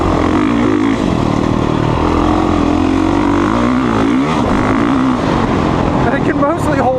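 Honda CRF450R dirt bike engine droning steadily and loudly on a dry, dusty track, holding one gear with small surges in pitch, under continuous talking throughout.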